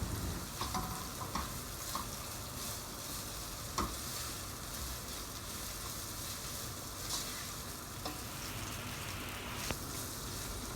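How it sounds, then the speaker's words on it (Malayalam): Chicken masala sautéing in a covered non-stick pan for Thalassery biryani, a soft steady sizzle with faint crackles and occasional light clicks throughout, no voices. "അപ്പോൾ ക്ലോസ് ചെയ്ത് വെച്ചിട്ട് വഴറ്റിയെടുക്കുക."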